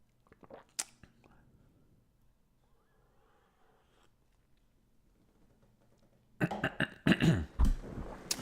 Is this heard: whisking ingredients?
no